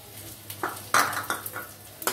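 Green chillies tossed into potatoes frying in a pan, with a few soft stirring scrapes and light sizzling bursts at close range.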